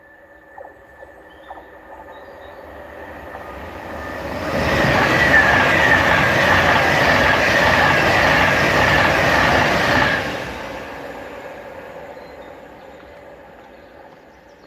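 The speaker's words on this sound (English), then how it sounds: "Here's the Pendolino as well." A Pendolino express train on the West Coast Main Line north of Crewe rushes past, swelling from a distant rumble to a loud, steady roar for several seconds before fading away.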